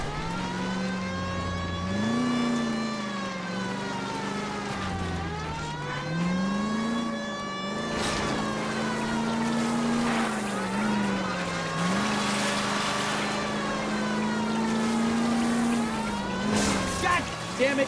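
Car engine roaring and revving steadily throughout a chase in L.A. Noire, pitch rising and falling with gear changes and acceleration, loud and close with the sustained drone of a pursued red Ford.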